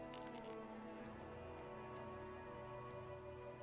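Rain falls steadily in the video game Disco Elysium, a soft continuous patter over a low ambient hum of game music, with no talking.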